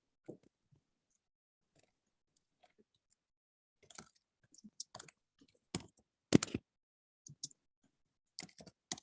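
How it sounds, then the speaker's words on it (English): Quick bursts of typing on a computer keyboard: sparse clusters of crisp key clicks break an otherwise quiet stretch, with scattered taps early and busier runs later. "I'm typing very quickly"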